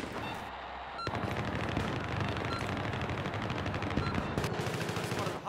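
Sustained machine gun fire in Battlefield 3, a dense, steady stream of rapid shots that continues without letup over a steady battlefield din.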